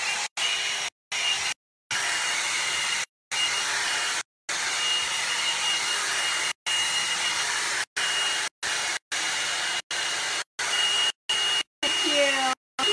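A L'ange brush dryer blows in repeated bursts, switching on and off many times with short silent gaps, loud and close.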